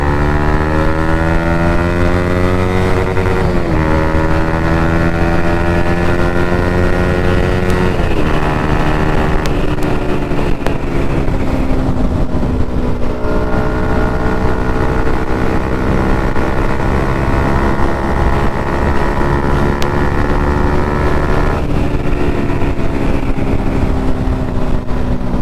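A Yamaha MT-15 motorcycle cruises steadily on a highway, its engine droning continuously with shifting pitch as gears change, plus constant wind rush, with no talk.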